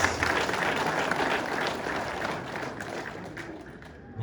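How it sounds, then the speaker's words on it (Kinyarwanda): An audience applauds for Mpyisi at a home gathering, a dense, steady burst of many hands clapping that eases slightly before swelling again at the very end. "Mukomere amashyi Mpyisi."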